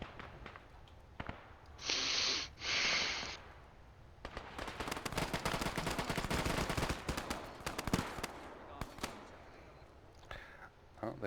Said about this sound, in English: Nades being thrown southwest, be careful, everyone.